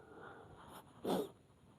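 A single abrupt sneeze bursts out near and loud, set off by pulling something out, and stands alone against a quiet background.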